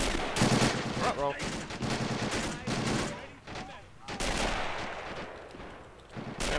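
Machine gun fire rattles in a World War II battle video game, sustained bursts of rapid shots layered with other gunfire and explosions, while players talk excitedly over the chaos.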